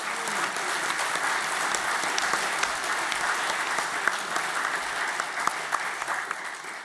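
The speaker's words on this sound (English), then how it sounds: "I like that I get the clap for that" Sustained applause from a large conference audience at a UKIP party conference speech, steady dense clapping filling the whole stretch with a few sharper claps standing out and no voices over it.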